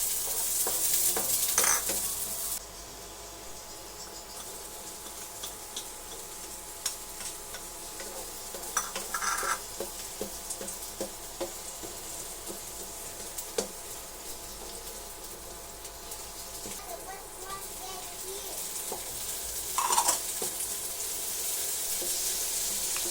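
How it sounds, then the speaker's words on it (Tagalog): Onion, garlic and tomato sauté in oil in a pan, making a continuous mid-level sizzle with scattered stirring clatters and a couple of louder bursts, with no talking. "Igisa po natin ng sibuyas, bawang at kamatis."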